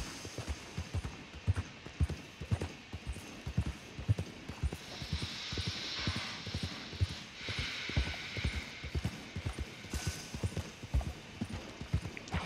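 Horse hooves clip-clop in a steady walking rhythm in the video game Red Dead Redemption 2, fairly quiet, with faint mechanical clicking in the background and no voices.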